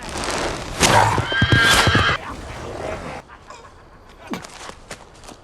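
Horse in a Rings of Power forest chase scene lets out a loud whinny. Hoof clatter and scattered thuds follow, then the sound fades into a quieter stretch with a few sharp hits near the end.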